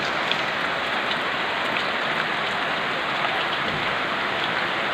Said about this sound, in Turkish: birdenbire sağanak bir şekilde 21 Haziran'da bu yağmuru memleketimizde görmekten son derece mutluyuz